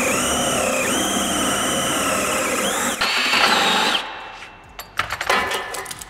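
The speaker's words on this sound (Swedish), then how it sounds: "Så nu har vi borrat alla hål med stegborr." A step drill whines at high speed as it bores holes in reinforced sheet metal, a steady tonal drone that cuts off, followed by a short burst of grinding and some clattering handling noises.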